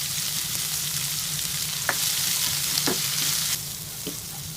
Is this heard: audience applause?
no